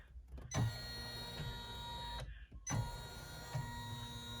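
Embroidery machine stitching a zipper bag clutch, a steady mechanical whir with tonal hum, broken by two short pauses and soft thumps as it runs on.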